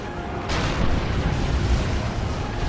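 A Singularity ability goes off in the strategy game Dawn of War 2, an Eldar versus Imperial Guard match: a sudden dense, roaring blast at half a second swells into a sustained rumbling, crackling wash of battle noise.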